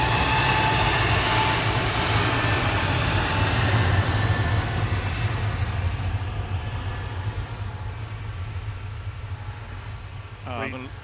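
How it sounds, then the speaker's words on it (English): An EasyJet Airbus A321neo departing Manchester Airport on a flight to Naples: a loud, steady roar of jet engines that slowly fades as the aircraft moves away, with a brief voice heard near the end. "Departing in parallel, EasyJet to Naples, GUZLO, A321neo."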